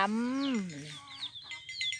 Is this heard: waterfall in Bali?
no